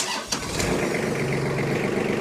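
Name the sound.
2013 Kubota L3800D tractor engine starting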